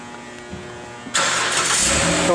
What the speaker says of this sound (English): So we're gonna start the engine for you so you can hear it.